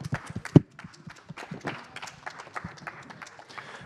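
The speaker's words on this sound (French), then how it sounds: "Vous pouvez encore les applaudir," An audience at a Nintendo Smash Bros championship in Lyon claps for the players, scattered claps from a modest crowd with one sharp close clap near the start, fairly quiet and thinning out.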